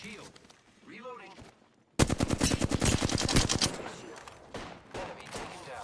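Video game gunfire: quiet background sounds give way to a sudden, loud burst of rapid automatic shots that continues and then tapers off. A voice can be heard faintly at the start.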